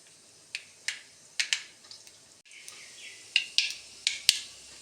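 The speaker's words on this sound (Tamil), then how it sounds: "கடுகு போட்டு தாளிக்கவும்" Mustard seeds spluttering in hot coconut oil, a string of sharp irregular pops and crackles over a quiet background.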